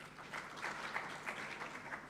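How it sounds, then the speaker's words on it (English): A conference audience gives a speaker a brief round of hand clapping, soft and distant, the claps forming a quiet, slightly uneven patter. "let's give her a very big hand clap"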